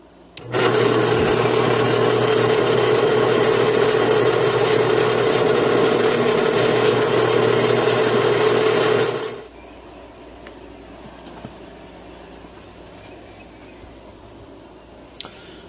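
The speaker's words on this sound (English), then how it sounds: "We'll drill the holes with a 16th inch drill bit" A drill press drills holes in leather with a 1/16-inch bit, a loud, steady motorized whine for about eight seconds, then cuts off, leaving a quiet room with faint clicks.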